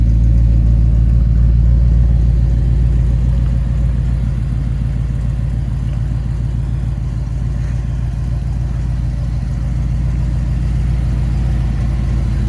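A street rod's engine runs steadily up close, a deep low rumble with a rhythmic lope, holding a fairly constant idle for the whole stretch with no voices.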